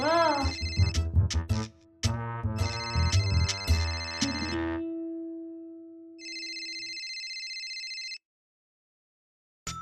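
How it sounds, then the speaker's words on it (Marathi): A mobile phone ringtone plays loudly: a bright melodic tune with rhythmic beats, then a sustained tone and a steady two-pitch electronic warble before it cuts off into silence. "तुझ्याच फोनची रिंग आहे"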